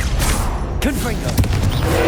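A Confringo blasting spell detonates in Hogwarts Legacy, a sharp burst with a whooshing sweep amid dense battle noise, landing once near the middle of a busy, loud stretch.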